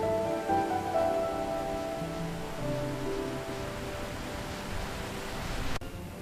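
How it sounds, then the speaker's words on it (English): Rain falling on a bus during a family trip, a continuous soft wash of drops drumming on the vehicle, steady and moderately loud, with a low engine-like hum beneath it and a sharp knock near the end; no talk. "The rain's not letting up, is it?"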